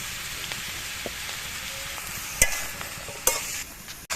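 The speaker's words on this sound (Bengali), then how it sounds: "নুন আর হলুদ পেঁয়াজকলির সঙ্গে ভালোভাবে মিশিয়ে দিচ্ছি।" A spoon stirs spring onion greens with salt and turmeric in a pan, giving soft scraping and faint sizzling with a few sharper clacks against the metal.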